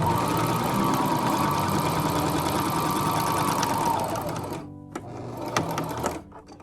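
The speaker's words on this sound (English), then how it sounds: "I'm going to back stitch at the end of this hem, pull it away from my machine" A sewing machine stitches a fabric hem with a loud, steady, close mechanical whir for about four seconds, then slows and stops, leaving a few clicks and taps.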